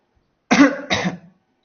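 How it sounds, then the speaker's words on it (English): Two quick, close coughs in succession, the first stronger, then silence. "And if I record cough"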